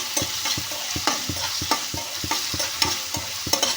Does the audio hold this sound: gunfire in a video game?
no